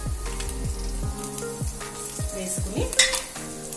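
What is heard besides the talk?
dried red chillies frying in oil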